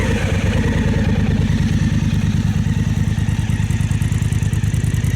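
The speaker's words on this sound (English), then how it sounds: "let's start her up" A Honda Africa Twin motorcycle engine fires up and settles into a steady, loud idle with an even, rapid rhythmic pulse throughout, close by and alone with no talking.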